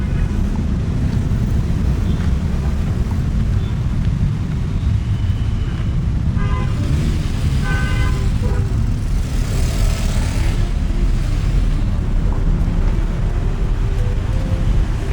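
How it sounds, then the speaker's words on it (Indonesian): Continuous road noise from riding a motorbike through traffic near Sukatani, Rajeg, with loud steady wind buffeting and engine rumble throughout and brief passing vehicle tones midway. "Lagi naik motor."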